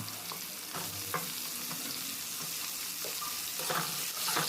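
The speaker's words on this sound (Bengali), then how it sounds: "ঝিঙেটা এখানে পেঁয়াজের সঙ্গে আমি হালকা ভেজে নেব" Chunks of ridge gourd fry lightly with onion in a pan, giving a soft, steady sizzle with intermittent scraping stirs and small clinks, and a faint watery hiss as the gourd releases moisture.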